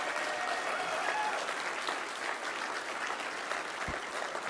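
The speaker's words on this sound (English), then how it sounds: "let's give those warriors one more big round of applause" Steady, dense applause from a luncheon audience at an Army recognition event, filling the room evenly for several seconds with no voices on top.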